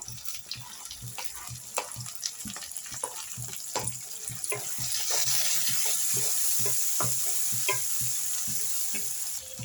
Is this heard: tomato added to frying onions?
yes